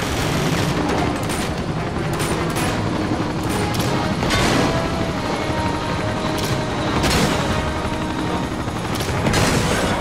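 In the video game Uncharted 2, a helicopter drones loudly and continuously under dense bursts of gunfire and explosions, a busy, steady combat mix with no talking.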